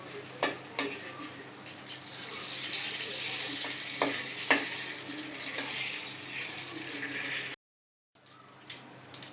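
Four dried red chilies in half a cup of mustard oil make a steady crackling sizzle with a few sharp pops and spoon knocks, close up. A brief gap of silence comes near the end before the frying resumes.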